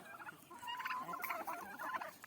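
Several turkeys gobble in quick, agitated bursts, close by and fairly loud, with a rapid, bubbling rhythm.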